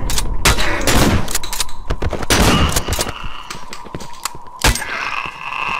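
Rapid loud gunshots in the video game Cry of Fear, in clusters, sharp cracks firing in bursts, then a pause and a single later shot over a low background.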